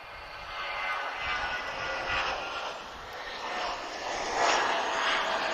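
An airliner moves at Lisbon Airport, its engines giving a steady broad roar that swells and eases slightly, heard from a moderate distance with no voices.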